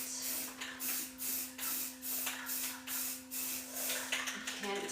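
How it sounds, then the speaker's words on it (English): Aerosol spray paint hissing onto the mirror trim in a dance studio: a steady run of about ten short, rhythmic bursts, close and fairly loud over a constant low hum. "I see some spray, but I just don't know if there's any paint with the spray"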